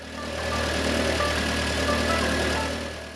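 An Audi TT Mk1 engine idles steadily up close, a constant mid-pitched hum with a faint mechanical whine and even vibration throughout, no voices.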